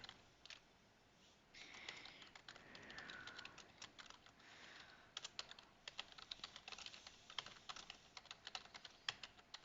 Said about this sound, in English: I know I'm typing a lot, right?